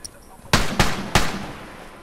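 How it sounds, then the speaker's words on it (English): Three frontier rifle shots in The Last of Us Remastered, loud, sharp cracks fired in quick succession over about half a second, each trailing a short echoing decay. "I'm using the frontier rifle with science on it."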